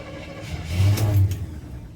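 A 1980 Chevy engine cranks and catches without the accelerator pumped, rising into a brief rev with a loud low rumble that peaks mid-clip and then settles, heard close by with no talk.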